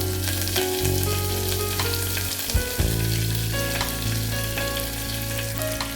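Mustard seeds, small onion pieces and curry leaves fry in a pan for cabbage egg curry, giving a loud, steady sizzle with crackling pops and a brief stir partway through, and no voices over it.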